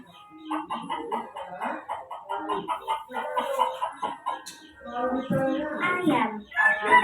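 Chickens cluck busily and steadily, with a rooster crowing, in a loud, close and continuous farmyard chorus.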